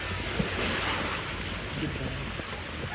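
Strong ocean waves on a beach after typhoon Odette, heard as a continuous loud roar of surf mixed with wind buffeting the microphone and no distinct breaks.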